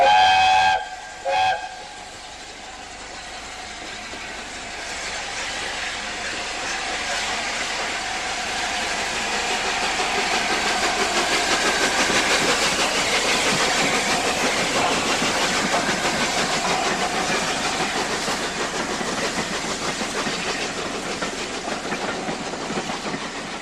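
LNER steam locomotive Mallard departs York, opening with a shrill whistle blast and a second short toot, then a steady building hiss and rumble of steam and rolling stock that stays loud and continuous.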